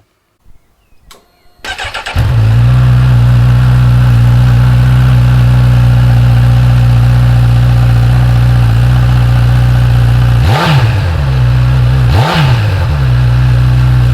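A Honda CB1000R motorcycle with its stock exhaust cranks over and fires up after a few clicks, then settles into a steady, loud, close idle, with two brief throttle blips near the end.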